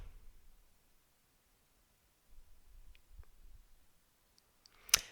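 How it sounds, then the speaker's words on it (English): A single sharp computer mouse click rings out near the end, following a few seconds of near silence and faint low rumble. "Now click on the Upload button."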